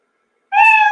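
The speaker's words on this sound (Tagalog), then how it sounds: "pag narinig nyo na yung pusa na nag-meow" A single cat meow rises out of silence about halfway through, a clear, close, loud and drawn-out tonal call that holds steady to the end.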